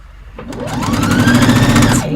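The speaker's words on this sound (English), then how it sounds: "I'm going to sew in a big circle." A sewing machine stitches a seam in a big circle around a top. Its needle whirs in a fast, even rhythm that speeds up and holds steady, close and loud.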